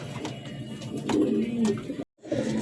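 Pigeons coo close by in a loft, a low throaty rolling call repeated, with a brief drop to silence near the end before the cooing resumes.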